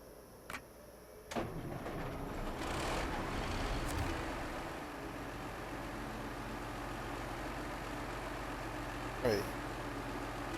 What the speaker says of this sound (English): Why do you have to turn the engine on to unpack?